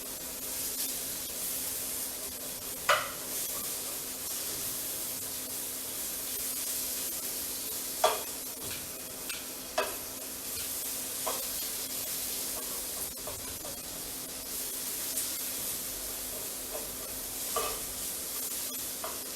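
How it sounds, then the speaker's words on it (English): Onion and garlic fry in hot oil in a pan, giving a steady hiss with occasional spatters and pops and a few stirring scrapes, close and continuous with no talking. "When it's hot, add in your onion and garlic."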